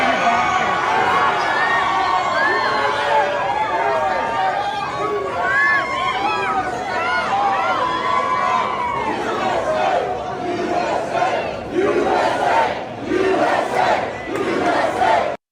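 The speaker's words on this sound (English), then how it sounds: "that crowd response right there" A football stadium crowd in Alabama roars and cheers, a dense, sustained wall of many voices with shouts rising and falling, loud and continuous throughout with chatter mixed in.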